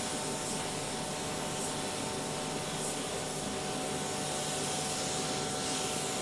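An adjusted spray gun lays down House of Kolor base coat in a steady, loud, unbroken hiss of compressed air and atomized paint, held close to the panel.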